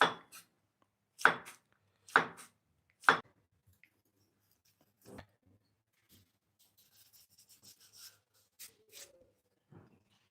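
A knife chops vegetables for fried rice on a board: four sharp, close chops in an uneven rhythm, then quieter scraping and light knocks.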